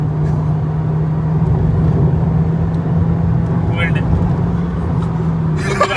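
A Volkswagen Virtus 1.5 GT with DSG gearbox accelerates hard through its gears, giving a loud, steady engine and road roar heard from inside the cabin, with a person talking over it.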